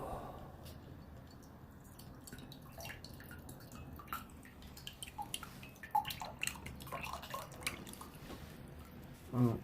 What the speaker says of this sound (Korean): 우유 막 따르는 소리가 막 나죠.